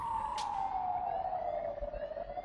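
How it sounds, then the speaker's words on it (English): An ambulance siren in the video game Battlefield 3 sounds as one long, loud wailing tone that slowly falls in pitch, with faint rumbling game noise beneath it. "I am getting pissed at that ambulance."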